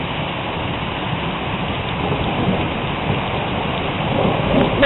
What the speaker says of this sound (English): Looks like it's mostly rain with a bit of hail now.